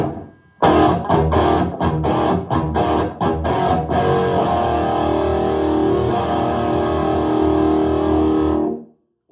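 Electric guitar played straight into a Mesa Badlander 25 head with no pedal, a run of loud distorted chord stabs followed by a long ringing sustained chord that cuts off abruptly.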